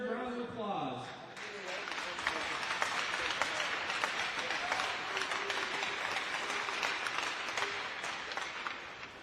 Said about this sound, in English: Thunderbird Nation, please stand and give our seniors one final well-deserved round of applause.